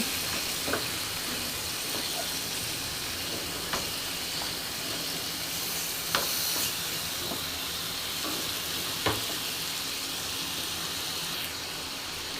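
Konkani-style fish frying in a pan, a soft continuous sizzle and hiss running throughout, with a few sharp utensil clicks spaced several seconds apart, moderately quiet and no talk.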